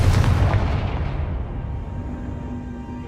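A Confringo explosive spell blast in Hogwarts Legacy goes off as one loud, booming burst at the start, then fades into a long rumbling decay with no voices.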